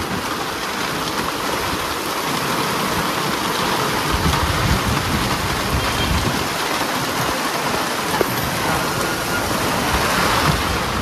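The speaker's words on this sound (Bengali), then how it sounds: "আমরা অর্ধেকটা রাস্তা এসছি আর মুষলধারে বৃষ্টি।" Heavy rain pours down steadily in a dense, loud, unbroken roar with spattering on surfaces, heard from a roadside shelter during an evening outing, no one speaking.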